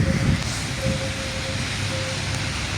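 Steady rain hisses loudly and continuously, a dense wash of drops with no talking.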